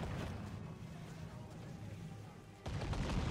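Ship mortar cannon fire during a naval battle in Assassin's Creed Freedom Cry, a low, rumbling boom swelling over a steady roar of sea and battle noise.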